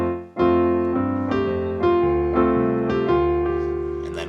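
Piano plays a melody as a series of clear struck notes over sustained chords, each new note sounding at a moderate, even pace, close and loud, with no talking.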